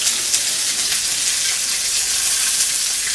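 Chopped raw onions frying in hot oil give a loud, dense, steady sizzle with an even hissing texture, heard up close and alone.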